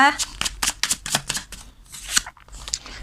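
Tarot cards being shuffled and drawn during a reading, with a rapid series of crisp, papery riffles and flicks in uneven bursts, fairly close, as a voice speaks briefly at the start.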